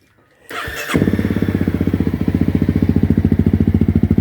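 A Honda CRF250L/CRF300L motorcycle engine fires up after a brief clatter, then settles into a loud, steady, rapidly pulsing idle with a raspy aftermarket FMF exhaust note.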